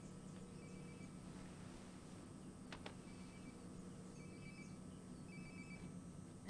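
A phone rings faintly in a video game, a few short repeated trills spaced a second or so apart, nearly buried under a steady low ambient hum.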